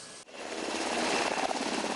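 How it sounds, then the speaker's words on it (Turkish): A military helicopter flies over steep mountains near a remote border outpost, its rotor chop and engine roar loud and steady throughout after a brief dip at the start. "kar yolları kapadığında Dağlıca'ya ulaşmanın tek yolu helikopter"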